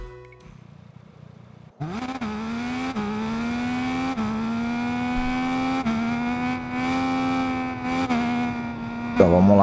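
Triumph motorcycle engine in the racing game RIDE 5, rising sharply from idle into a sustained high rev that climbs steadily with brief gear-shift dips, loud and close, ending in a quick burst.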